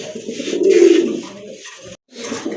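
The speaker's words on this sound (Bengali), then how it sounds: "মাশাআল্লাহ আরেক জোড়া কবুতর" Rajgolla pigeons coo close to the microphone in a low, throaty rolling call, one long coo followed by a brief pause and another starting.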